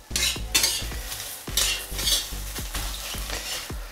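Whole chili peppers pan-fry in oil for a Sichuan-style chili sauce, a bright close sizzle broken by repeated sharp scrapes and clanks of a spatula against the pan, with no voices.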